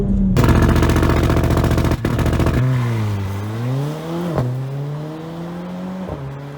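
A Mercedes GLA45 AMG launches under launch control. A loud, rapid, rattling high-rev drone opens the run, then the engine note climbs and drops sharply through several quick gear shifts, close and alone.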